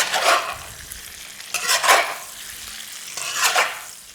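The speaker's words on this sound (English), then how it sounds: "you're kind of slowly stir frying this tofu to brown the edges and get that flavour into each piece" Ginger tofu is stir fried in a wok over medium heat, with three loud, sweeping stir-and-sizzle bursts evenly spaced over a low background crackle.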